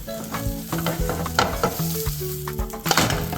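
A tuna and egg quesadilla sizzling in a pan after being flipped, a close crackling fry with rhythmic scraping and knocking from a spatula, dense and steady with no talking.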